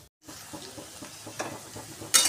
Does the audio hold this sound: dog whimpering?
no